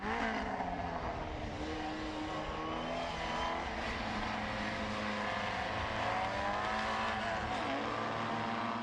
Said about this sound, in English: the number 25 car, with David Babert, is beginning to sort of make noises